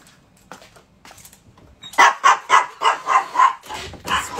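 Dogs barking in a home: a rapid run of six loud, close barks after quieter yips and whimpers, with no talk over them.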